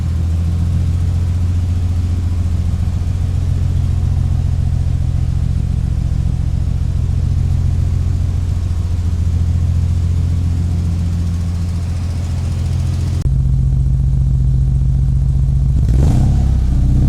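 Toyota Supra engine idling steadily just after starting, a smooth continuous low rumble held close for the whole stretch, with a brief change in tone near the end.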